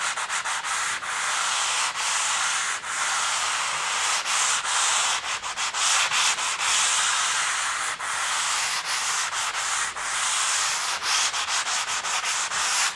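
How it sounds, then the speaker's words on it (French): Hand sanding over a blistered wall during repair, continuous loud abrasive rubbing with rhythmic back-and-forth strokes throughout, no talking. "Donc ici, je ponce."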